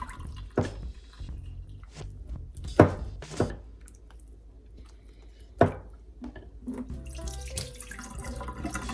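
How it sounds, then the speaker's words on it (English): Water running and splashing in a kitchen sink as it drains off freshly churned butter made from heavy whipping cream, with a few sharp knocks and clinks of utensils and a steadier faucet-like rush toward the end, close by. "Then we pull it to the side, drain off"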